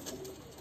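Ottoman Hünkari pigeons, a mix of sümbüllü and çavuş types, coo softly in a coop, a faint low murmur that runs through the whole brief moment.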